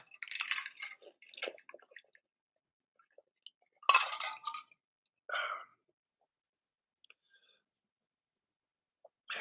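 Glass clinking as a drinking glass is fetched and filled with water indoors, a few short close clinks and drips separated by quiet gaps.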